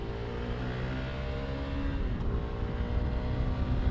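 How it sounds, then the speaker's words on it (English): Honda CRF300L Rally motorcycle engine runs steadily with a quick throttle blip partway through, a faint rise in revs heard from the riding position. "being able to blip that cable-actuated throttle just feels so much more natural"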